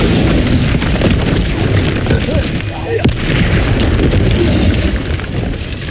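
A Bombarda blast spell in Hogwarts Legacy erupts as a loud, booming explosion with rumbling debris, a sustained heavy roar of magical combat that dips briefly midway before surging again.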